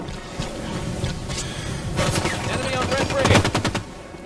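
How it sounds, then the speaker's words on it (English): Rapid automatic gunfire in the Halo 5: Guardians video game, dense overlapping bursts building to a louder volley near the end amid game noise. "someone's shooting behind me"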